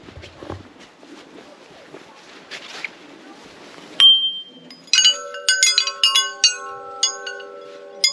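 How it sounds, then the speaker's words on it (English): Bright metallic chimes ring out in a quick series of clear tones that overlap and linger, following a stretch of quiet shuffling and faint background noise, on an autumn walk near Geilo, Norway. "Oh, are they chimes? They're chimes?"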